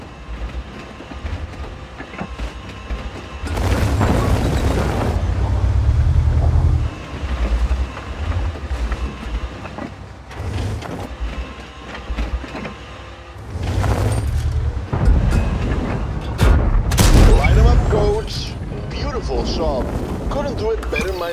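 Tank cannon shots in World of Tanks, heavy low booming blasts at intervals with rumbling engine and track noise in between, loud and close, with a voice speaking at points.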